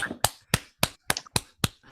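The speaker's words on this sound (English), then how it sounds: "give a round of applause on the count of 3" An online seminar audience applauds over a video call: about seven sharp, evenly spaced claps at a brisk, steady rhythm, close and fairly loud, with brief quiet gaps between them.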